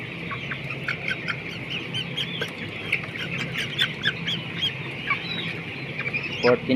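Fourteen-day-old broiler chickens on a poultry farm, making a dense, continuous chorus of chirping and squawking at moderate loudness, with louder individual calls rising now and then.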